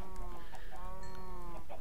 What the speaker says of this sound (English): Now some chickens.